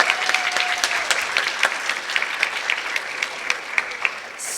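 Audience at a live debate event gives a full round of applause, dense steady clapping from many hands with a few sharper claps standing out, fading slightly at the end.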